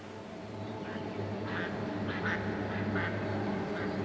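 Several quacking duck-like bird calls in a synthesized soundscape built with Eurorack and Kyma, scattered over a steady humming ambient drone, moderately quiet and continuous.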